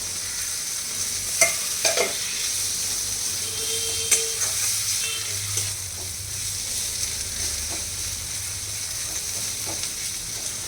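Tomatoes sizzle and spit in a hot pan with a steady frying hiss, broken by a few sharp spatula scrapes and clinks early on. A brief sputter comes through in the middle, and no voices are present.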